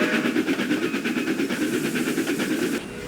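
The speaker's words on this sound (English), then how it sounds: "Just then, Allison puffed into the yard." A steam train puffs into a rail yard with steady rhythmic chuffing and rail clatter, moderately loud and continuous, then tailing off toward the end.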